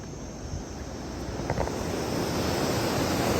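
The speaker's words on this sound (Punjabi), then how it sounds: "ਆ ਭਾਖੜਾ ਦਾ ਪਾਣੀ ਜਾ ਰਿਹਾ" Continuous rushing water from the Bhakra canal, a steady broadband wash close by, with no voices and only slight swells in level.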